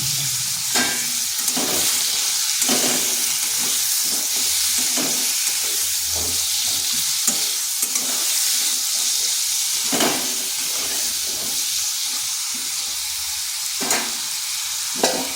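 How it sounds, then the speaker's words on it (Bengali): Pieces of papaya with turmeric and salt fry in a pan, giving a constant close hiss and sizzle broken by repeated scraping strokes of a spatula stirring them, and no one speaks. "ওদিকে পেঁপেটা ভাজা হচ্ছে"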